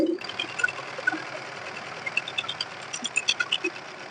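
A sewing machine stitches a folded fabric strip for a blouse, starting as a close, steady hum and ending in a quick run of rhythmic needle thumps.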